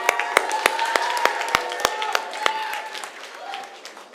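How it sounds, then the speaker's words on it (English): Audience applause at a youth summit fills the room, with sparse, sharp individual claps standing out over a softer clapping bed before it tapers off toward the end. "One more round of applause."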